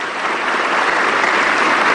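A studio audience claps in a dense, even burst of applause that swells slightly and then cuts off abruptly, with no voices over it.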